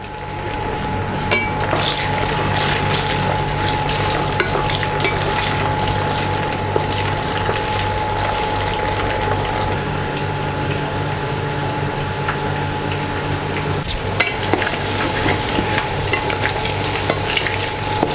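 Chiang Mai meatballs deep-frying in hot oil, a steady dense sizzle and bubbling that carries on without a break, with faint stirring and clinks of utensils close by.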